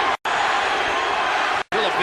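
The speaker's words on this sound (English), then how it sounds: "Filipino crowd chanting for their man" Filipino crowd at the Manny Pacquiao vs Antonio Barrera 2 boxing match, a loud, dense, sustained roar of voices that drops out for two brief gaps.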